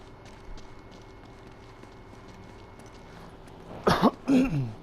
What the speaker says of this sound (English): I'm kind of fighting a little bit of a cough.